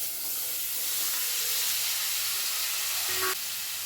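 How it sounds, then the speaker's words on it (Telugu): Tomatoes simmering in a pot on a home stove give off a steady close hiss of steam and bubbling, with a brief clink near the end. "టమాటాలు ఉడికిస్తున్నా."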